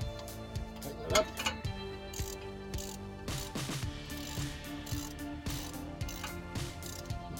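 A ratchet tightens a fluid plug on a Maserati Ghibli SQ4's differential, giving close, crisp bursts of rapid pawl clicks in repeated strokes with short pauses between, alone without talk.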